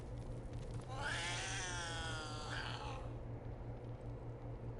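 A cat in Baldur's Gate 3 lets out a long, drawn-out meow lasting about two seconds, heard clearly over a steady low game hum with no talking.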